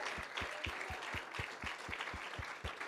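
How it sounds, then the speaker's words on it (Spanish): Steady rhythmic clapping from a church congregation, even beats roughly every quarter second, moderately distant with a roomy wash behind it. "Can you give him a hand clap of praise?"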